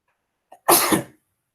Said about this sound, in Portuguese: Vai vir um espirro.